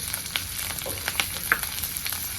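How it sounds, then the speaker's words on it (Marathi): Green chillies frying in oil with turmeric, a close, even sizzle and crackle punctuated by small pops and brief scraping stirs. "तेलात मिरची छान अशी भाजली गेलेली"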